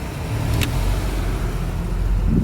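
Boat engine running wide open at high RPM, trimmed up, well above cruising speed, heard as a loud, steady droning roar with constant rumble and no talk.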